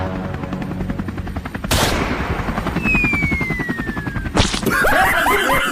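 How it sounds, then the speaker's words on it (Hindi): Rapid bursts of comedic machine-gun fire aimed at a helicopter, loud and sustained throughout, with a rising whistle streaking across the middle and a sharp impact near the end. "इससे पहले अपने हेलीकॉप्टर में पहुँचे इसको गोली मार दो"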